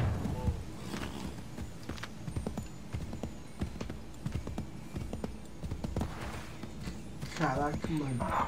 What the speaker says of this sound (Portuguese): vamos montar um cavalo e vamos partir pro objetivo